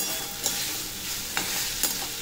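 Jackfruit seeds are stirred in masala in a pan over a soft continuous sizzle, with three distinct spatula scrapes spaced out and no talking.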